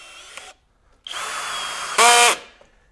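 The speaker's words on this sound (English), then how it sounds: "If I go to 2, and let's run this up to 20. We'll probably countersink this." Kobalt KHD124 24V brushless hammer drill driver sinks a 3.5 inch deck screw and countersinks it, with a short burst, a pause, a steady whining run of about a second, then a louder, higher-pitched final burst before stopping.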